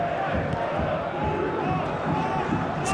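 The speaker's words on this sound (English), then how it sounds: "It's just got the crowd going again" Football crowd at an FA Cup fifth round match between Huddersfield Town and Wigan Athletic, a steady roar of chanting and cheering from the stands filling the stadium, heard at a distance and unbroken.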